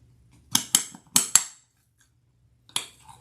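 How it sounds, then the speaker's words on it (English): A spoon stirs fruit salad mixed with vanilla instant pudding in a bowl, making four quick scraping, clinking bursts close by, then a pause and one more short burst. "we're going to stir and stir and stir and stir."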